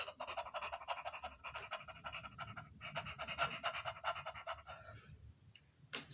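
A person pants rapidly in a steady, rhythmic stream of short breaths, close and clear, imitating a dog panting as a breathing exercise for wind players and singers.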